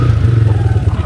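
A quad bike engine idles close by with a steady, throbbing low rumble and a slight clatter, running alone with no other sounds.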